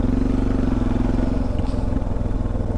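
A carburetted motorcycle engine while riding throbs in a close, loud, pulsing rhythm, its steady revs rising and dipping slightly with a few small clunks, and no talk.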